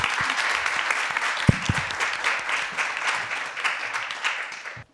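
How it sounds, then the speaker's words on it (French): Audience at an ethics speaking competition final applauds a participant, a dense, sustained wash of many clapping hands, steady and close, tapering off at the end with no talk. "Merci beaucoup, on peut l'applaudir bien fort."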